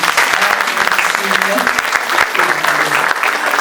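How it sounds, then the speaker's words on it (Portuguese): Applause greets a nun during a church talk, a dense, steady wash of hand claps filling the room, with a voice and murmurs threaded through the clapping. "Uma salva de palmas para ela"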